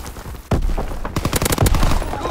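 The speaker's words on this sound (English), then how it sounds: "That the amount of people in this game that are using a light machine gun is ridiculous." Rapid bursts of light machine gun fire in Call of Duty: WWII on the Shipment 1944 map, loud close automatic shots starting after a short lull and continuing in quick rattling volleys.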